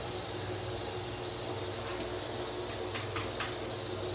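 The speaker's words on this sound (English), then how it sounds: "I'm the only one in Florida with brown crickets." Brown crickets in a Florida bait shop chirp in a continuous high trill over a low steady mechanical hum, with a few louder chirp bursts close by.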